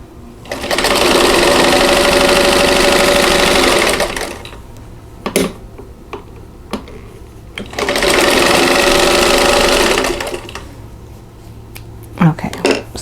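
A sewing machine stitches quilt block pieces together for an owl block in two close, loud runs of a few seconds each, separated by quiet fabric handling and small clicks.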